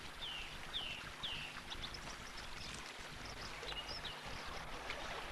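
A small outdoor stream flowing shallow and steady, a faint continuous babble with a few distant bird chirps above it.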